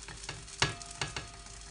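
Mkhamar flatbread fries in oil in a large pan. A soft, close sizzle is broken by a few crisp spits and pops, the sharpest coming near the middle.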